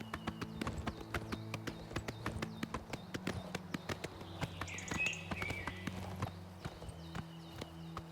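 Horse hooves clip-clop in a steady, quick rhythm of sharp, close knocks from a ridden horse in The Elder Scrolls IV: Oblivion Remastered, with a faint higher tone drifting in midway.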